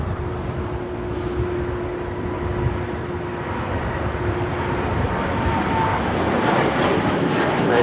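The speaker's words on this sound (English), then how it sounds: "That is United Airlines Flight 39 taking off to Tokyo Haneda on the 787-10 Dreamliner." A United Airlines Boeing 787-10 Dreamliner taking off at LAX, heard as a steady, powerful jet engine roar that holds strong and gradually builds over several seconds, with no voices.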